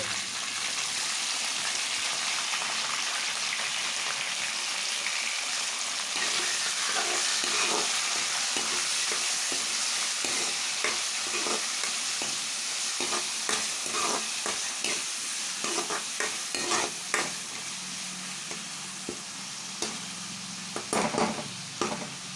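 Cleaned prawns for Andhra-style gongura prawns hit hot oil in a pan with a loud, continuous close-up sizzle, later joined by a run of rhythmic spatula scrapes and taps as they are stirred.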